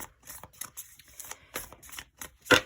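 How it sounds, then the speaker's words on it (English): Tarot cards being shuffled by hand: soft, scattered riffling and rustling bursts, ending in one louder, sharper snap of the deck. No talk. "Shuffle one more time and let's get into it."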